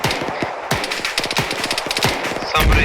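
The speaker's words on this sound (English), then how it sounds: "Hearing gunshots from left window." Rapid automatic gunfire from an Arma 3 co-op military battle, with loud bursts of sharp shots crackling back to back and a heavier blast near the end.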